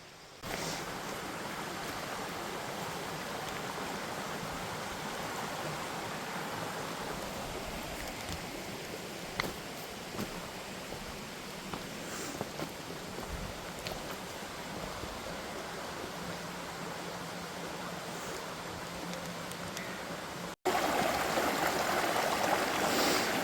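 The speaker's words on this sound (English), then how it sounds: "I'm heading back down to the brook, and then we'll just walk along the little bank." A babbling brook in Wales gives a steady, close rushing of flowing water throughout, broadband and even, with a brief louder burst right at the end and no voices.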